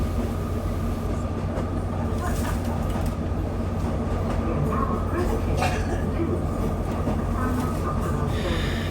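A modern train runs on the Looe branch line at Coombe Junction, giving a steady, moderate rumble of wheels and engine that holds throughout, with brief scraping hiss from the rails now and then.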